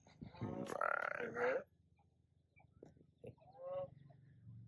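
A goose gives a few loud, nasal honks up close on a foggy mountain walk in Sapa, Vietnam, then quieter grunting calls after a pause.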